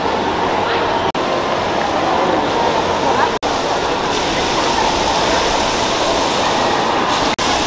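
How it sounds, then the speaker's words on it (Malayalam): Small decorative waterfall-style water feature flowing inside Marina Mall in Abu Dhabi, a steady broadband rush of falling water that fills the whole stretch with mall ambience and voices mixed in. "ഇവിടെ ഒരു വെള്ളത്തിൻ്റെ ഒരു ഡിസൈനിൽ ചെയ്ത് വെച്ചിട്ടുണ്ട്. അടിപൊളിയാണ് കാണാൻ, അല്ല വാട്ടർഫാൾസ് പോലെ ചെറിയ"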